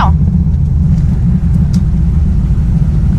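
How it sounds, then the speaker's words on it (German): A 1980s Corvette C3 with a V8 engine driving, giving a loud, steady low rumble throughout with no clear revving peaks. "wir fahren jetzt erstmal eine kleine Runde"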